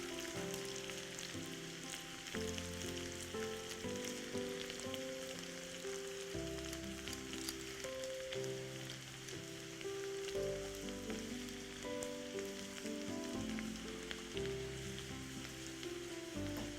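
Food for daal fry is cooked and stirred in a pan until soft, giving a soft, steady sizzle with faint stirring and background music underneath, no voices heard.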